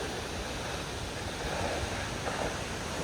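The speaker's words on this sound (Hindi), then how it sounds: "पानी ऊपर से सीधा नीचे गिर रहा है एकदम पत्थरों पर, उससे आवाज़ आ रही है" Vasudhara waterfall near Badrinath, water plunging straight down onto rocks, heard as a constant loud broadband roar with wind buffeting the microphone and no talk.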